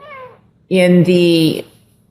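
A house cat meows loudly and close by, one drawn-out call with a short break in the middle, after a fainter, higher mew just before it.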